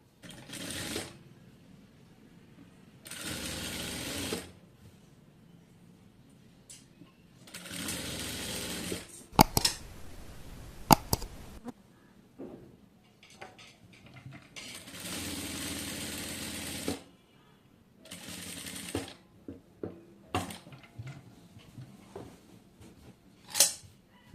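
A domestic sewing machine stitches a decorative front neck design on a kameez in several separate runs of rapid whirring, close and loud, with quiet pauses and small handling clicks between bursts.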